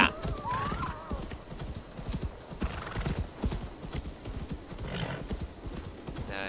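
A horse in Assassin's Creed Valhalla gallops with rapid, rhythmic hoofbeats, whinnying near the start, while someone talks and shouts over the running.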